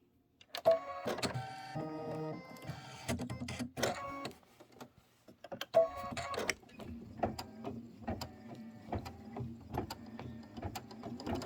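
Embroidery machine stitching a satin outline for an autumn hay-ride design, a fairly quiet mechanical whir with rapid rhythmic needle pulses that start, stop briefly and resume, close by and without speech.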